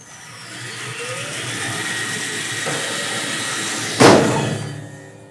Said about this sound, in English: I will run the blade and I'm going to throw this glove in